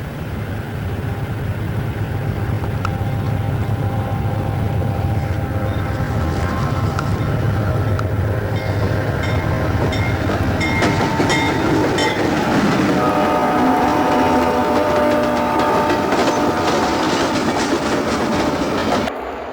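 An Erie Lackawanna train rolls down grade at Gouldsboro, a loud continuous rumble of wheels and rail clatter with engine drone, steady and near for the whole stretch.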